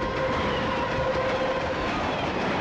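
A train rumbles past at steady volume, a continuous rolling roar with a faint tonal whine running through it.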